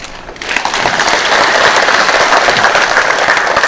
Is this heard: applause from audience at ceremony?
yes